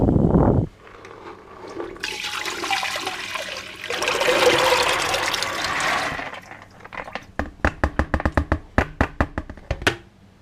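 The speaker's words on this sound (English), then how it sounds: "I'm going to tip my bucket into my pan." A bucket of soaked tiger nuts and water is tipped into a pan: a short splash, then a sustained gushing pour of water and nuts, followed by a run of sharp regular knocks and clatters as the bucket empties.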